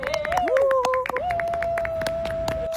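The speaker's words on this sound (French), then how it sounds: "ils vont jusqu'à applaudir leur propre gênance" A small group of people claps in quick, irregular rhythm at close range, while a sustained whistling or singing tone runs over the applause.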